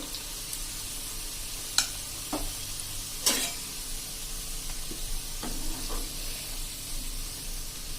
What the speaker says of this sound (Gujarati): આવી રીતે આપણે ગોળ ચમચો હલાવીને જ, જારો હલાવીને જ આપણે આવી રીતે ટર્ન કરવાના છે.